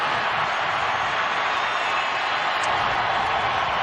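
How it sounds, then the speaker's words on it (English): Steady roar of a football stadium crowd cheering as Peyton Manning takes the field for the Broncos against the Chargers, a dense, sustained wash of noise from a large crowd with no distinct breaks. "This crowd is thrilled."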